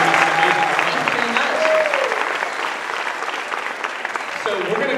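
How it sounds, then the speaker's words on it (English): A pageant audience at Miss Harvest Homecoming applauds a candidate with steady, dense clapping that fills the room. Brief whistles or cheers rise above it, and a voice briefly calls out near the end. "Let's give her a big round of applause."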